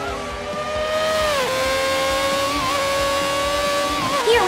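F1 race cars at Mugello in the Forza video game, a loud continuous high-pitched engine whine that dips as the cars shift, then climbs steadily, with a brief rise in volume at the end.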